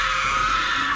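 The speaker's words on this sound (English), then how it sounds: "A scream, this time just outside the cabin." A scream just outside a woodland cabin, used as a horror story sound effect: a sustained, shrill, high-pitched cry lasting the whole second, fairly loud and unbroken, with no speech.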